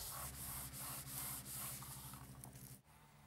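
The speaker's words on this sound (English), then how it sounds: "now give it another burnish" A turned wooden baby's rattle being burnished on a lathe, a close, rhythmic rubbing rasp pulsing in quick strokes over a spinning hum, stopping abruptly near the end.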